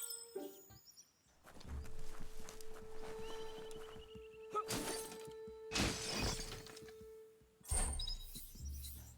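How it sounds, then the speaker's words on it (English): In the video game Biomutant, a box is smashed with several sharp, crunching shatter bursts spread over a few seconds, set against a steady game-music tone. "You shouldn't worry about smashing up the box."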